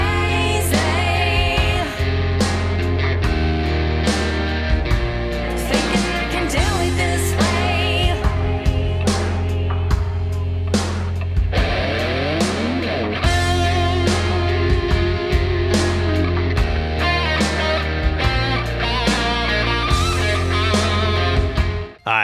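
Full-band song mix from a Cubase Pro 11 project, with an electric guitar played by a session player running throughout, steady and loud, with drums and bass, and no talking.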